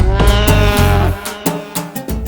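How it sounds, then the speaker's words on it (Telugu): A buffalo moos in a rural scene from a Telugu film, a few loud, drawn-out lowing calls close by with short gaps between them and no talk. "వెనకాలే ఓ గేదె దిగుతుంది గడ్డి నములుతూ."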